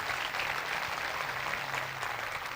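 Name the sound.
congregation applause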